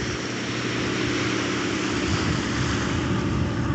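A biplane float plane droning steadily overhead above a beach, its propeller noise a broad, even rumble that holds without a break.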